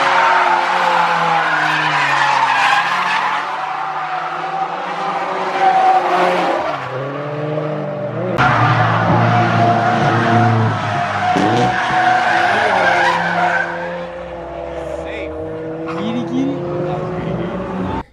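Loud Toyota 86 engines roar and tires squeal as the cars drift through a corner at a drift festival in Japan, revving up and down continuously with crowd noise beneath.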